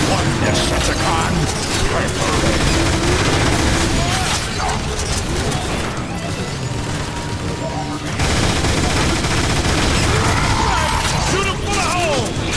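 Rapid automatic gunfire in the video game Transformers: War for Cybertron, sustained bursts of loud, dense shooting mixed with mechanical clatter and game effects, with brief speech over the battle.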